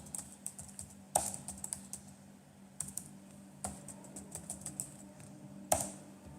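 Fingers type on a computer keyboard, a quiet irregular patter of key clicks with a few sharper, louder strokes mixed in, close up against a steady low hum and with no speech.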